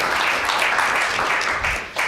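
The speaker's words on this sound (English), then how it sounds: "Give a round of applause." Conference attendees at a science and innovation models event applaud a presenter with a dense, steady burst of clapping from a seated crowd, fairly loud and close, sustained through the short stretch.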